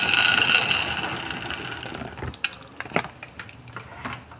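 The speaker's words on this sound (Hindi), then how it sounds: "यहाँ मैं फ्राई कर रही हूँ मूंगफली" Peanuts fry in ghee in a pan, a bright close sizzle that fades into scattered crackles and light scraping clicks from stirring.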